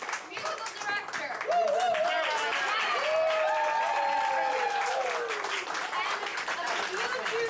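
An audience at a Gilbert and Sullivan Pirates of Penzance performance in New York claps in sustained applause, while a voice rises over the clapping with sung or exclaimed tones.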